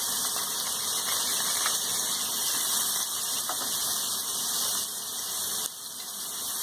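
Chopped onions hitting hot oil with fried spices, a loud, continuous, close sizzle that holds steady throughout with no talk.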